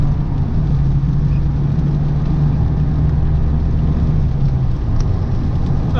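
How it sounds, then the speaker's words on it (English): A 1992 Nissan 300ZX twin-turbo with an aftermarket Z1 Motorsports intake drones steadily from inside the car, a loud, continuous engine whir holding roughly level with a faint rising whistle. "kind of get a little more turbo spool than before"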